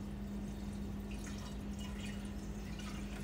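Distilled water poured into a bowl of sea moss for cleaning, a soft continuous trickle and splash heard close up and faint against a steady low hum.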